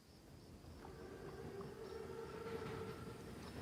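A large armoured train in the Call of Duty WWII video game rumbles faintly in the distance, with a long, steady whistle-like tone riding above the low rolling noise.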